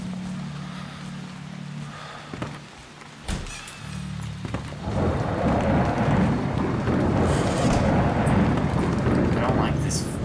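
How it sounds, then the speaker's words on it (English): Thunder rumbles in the Haunt horror video game, a low rolling crash that swells into a sustained roar amid rain-like hiss, with a person talking over the storm. "I don't like this lightning. The thunder."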